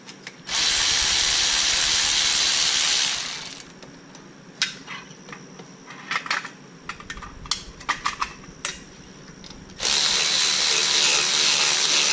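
A power drill loosens pit bike engine bolts during a head gasket repair, two sustained loud whirring bursts at the start and end, with clinks and rattles of metal parts between them.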